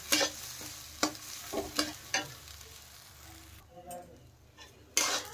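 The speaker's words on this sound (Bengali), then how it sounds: "দেখেন চাল আর ডাল ভালোভাবে মিক্স করে আমি কষিয়ে নিচ্ছি" Gobindobhog rice and mung dal being stirred and sautéed together in a pan for khichdi, with spatula scrapes and clinks at irregular intervals over a soft sizzle, nearby and without talk.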